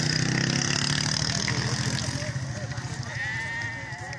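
Sheep bleat amid a noisy crowd at a livestock market in Maarat Misrin, Syria, with people talking and an engine idling in the background.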